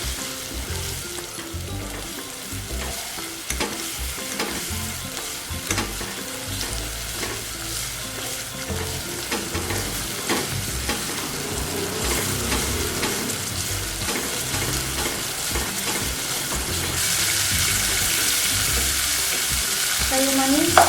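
Spices and beef sizzle in a hot pan for Aceh-style white beef gulai, with steady frying crackle and scraping stirs throughout, growing a little louder and brighter toward the end, no talking.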